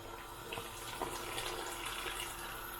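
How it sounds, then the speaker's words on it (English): Hot water runs from a tap into a container used for roasting breadfruit, a steady close splashing gush that thickens slightly midway, continuous with no talk over it. "Some more hot water in."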